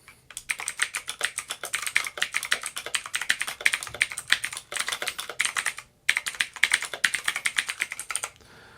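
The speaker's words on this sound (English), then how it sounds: "let's see what it looks like to type." Fast, continuous typing on a Bluetooth keyboard folio attached to a Boox Note Max tablet, with crisp close key clicks, one brief pause midway, and no speech.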